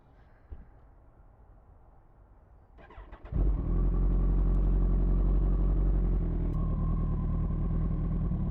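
A Kawasaki Ninja ZX14R motorcycle engine starts with a loud catch after about three seconds of quiet handling. It then settles into a steady, close, heavy idle that thickens slightly near the end. Nobody speaks.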